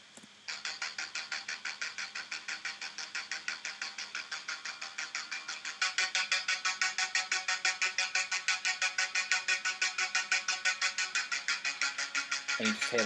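Synthwave synth parts layered with an ambient, effects-laden electric guitar play the same repeating line in a steady pulsing rhythm, growing fuller and louder partway through, with no talking.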